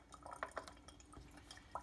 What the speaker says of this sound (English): I put in 300 grams of water